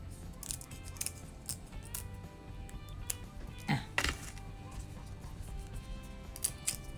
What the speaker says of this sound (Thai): ไป ฉีกใบมะกรูดนะฮะ ฉีกเลยฟึบฉีกแบบนี้นะคะ